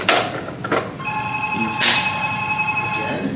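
A telephone bell rings in a room during a Go lecture, with a sharp electronic tone that holds steady for several seconds and is heard alone with no talk.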